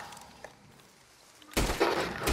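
A single loud, close gunshot goes off in Red Dead Redemption 2 after a quiet stretch of low ambient game sound, followed by a sustained noisy tail of reverberation and further rumble.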